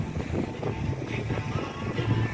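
A 2021 Bentley Cruise 220 pontoon boat with a Suzuki 140 outboard runs at speed, giving a steady low engine drone mixed with rushing wind buffeting close to the microphone.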